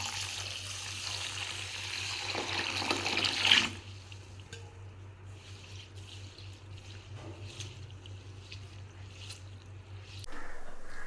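Seeraga samba rice being washed in water for Thalassery chicken dum biryani, a steady wet swishing and sloshing that is louder for the first few seconds, then softer trickling and drips.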